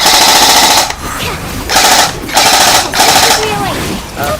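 Stock-motor airsoft gun firing full auto in smooth bursts: three loud, rapid sustained volleys separated by short pauses, with faint chatter underneath.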